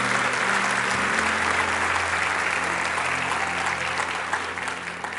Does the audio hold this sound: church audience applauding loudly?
yes